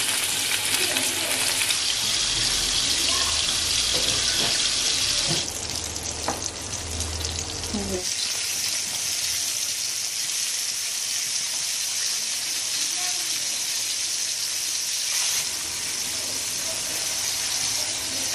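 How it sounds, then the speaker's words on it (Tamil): Fish and curry leaves fry in a small amount of oil, giving a steady, loud sizzle that runs the whole time, with a brief shift in tone midway and occasional faint kitchen clatter. "மீன் ஃப்ரை பண்றதுக்கு கொஞ்சமா எண்ணெய் விட்டுருக்கோம்."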